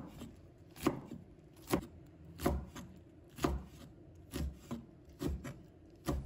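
A knife shreds black wood ear fungus on a cutting board, giving a slow, even series of about eight crisp chops, close and clear with quiet pauses between strokes.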